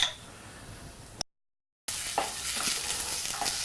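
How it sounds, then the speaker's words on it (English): Crushed garlic sizzling in a pan of pot pie filling, stirred with an olive wood spoon; a steady close frying hiss broken by a brief silent gap, then resuming louder with the scrape of stirring. "You can hear that sizzle."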